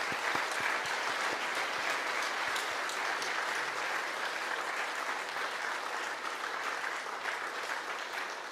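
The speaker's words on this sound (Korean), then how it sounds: "원로 선배님들께 뜨거운 박수를 우리가 드리면 좋겠습니다" A church congregation at a joint Korean peninsula peace and unification prayer service gives warm, sustained applause to honoured elders, an even wash of many hands clapping throughout.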